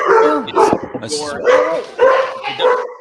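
A dog barks and yips excitedly in several quick bursts, loud and close, with whimpering tones between them and a person talking at the same time.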